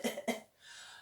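A storyteller voices an imitated cough while telling a legend of a sea-swallowing giant, two sharp, close coughing bursts followed by a softer, breathy exhale.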